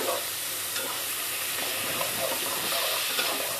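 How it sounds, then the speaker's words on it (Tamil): Onions sauté in a pan for a Tamil brinjal gravy, giving a steady, dense sizzle with faint stirring scrapes, close and continuous throughout. "நல்லா வெங்காயம் வதங்கட்டும்"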